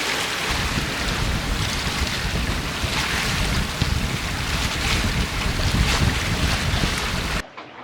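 A sailboat heeling under sail in the Cyclades, with strong wind buffeting the microphone and the rush of water and waves along the hull, loud and constant until it cuts off abruptly near the end, no voices.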